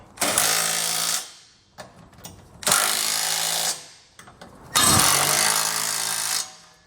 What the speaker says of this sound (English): you can take a 19mm socket and snug everything down